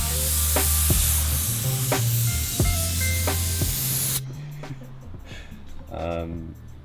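A spray can applies wrap coating onto car wheels in several loud, close hissing bursts separated by short pauses, followed by quieter handling noises with a voice nearby.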